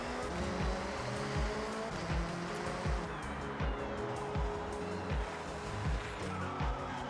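A Nissan Silvia S13 touge build slides through a corner in a racing video game. A steady engine drone runs under repeated low thumps and tire squeal, loud and continuous throughout.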